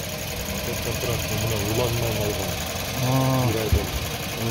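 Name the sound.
car engine idling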